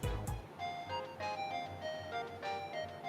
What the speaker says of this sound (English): Wasn't that a ringtone?